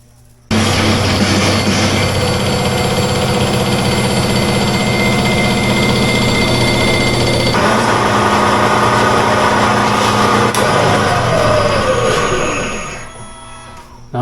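A milling machine set up as a lathe decks an engine head with a loud, continuous whirring cut, its tone shifting partway through before the spindle winds down near the end.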